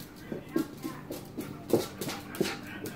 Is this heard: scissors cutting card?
no